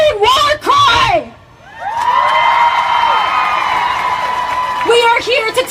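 International Women's Day marchers scream a collective war cry: shouting voices at the start, then a sustained loud crowd roar of high screaming and cheering lasting several seconds, with more yells at the end.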